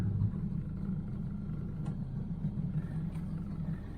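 A 1981 Chevrolet Camaro Z28 drives along with a steady, low engine rumble heard from inside the car, continuous and even throughout with no talk.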